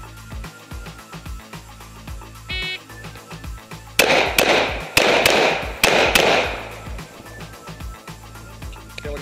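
A burst of about six rapid pistol shots, loud and close, fired at targets during an IDPA classifier string, with brief spoken commands before the volley.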